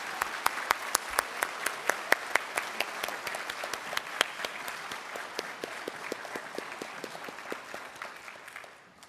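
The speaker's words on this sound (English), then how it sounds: "let us have one more round of applause for our graduating seniors and future servicemen and" A crowd at an armed services awards ceremony applauds graduating seniors and future servicemen and women, dense clapping with sharp individual claps standing out, sustained for several seconds before tapering off at the end.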